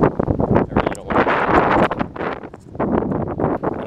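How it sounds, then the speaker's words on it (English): Gusty wind buffets the microphone at a junkyard ahead of an approaching storm, loud irregular rumbling blasts filling the clip with no speech. "And I'm sorry about the wind."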